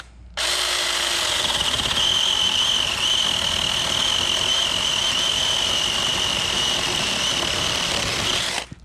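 A Taranzy mini cordless chainsaw runs at a steady high-pitched electric whine for about eight seconds, close and loud, starting and stopping abruptly.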